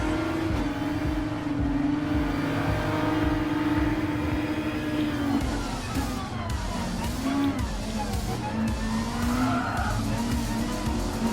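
Race cars in the Gran Turismo Sport video game, a continuous engine drone with long tire squeals and skids rising and bending in pitch, loud throughout with no talk.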